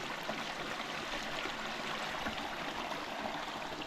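A woodland creek flows steadily and close by, a continuous wash of rushing, babbling water near a cabin by a lake in the Ellijay, Georgia mountains, with no voices.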